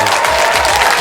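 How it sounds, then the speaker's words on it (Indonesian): An audience claps for a young performer at a music show in Palembang, dense steady applause filling the space loudly throughout, with no break in the clapping. "saya minta tolong tepuk tangannya untuk Alika"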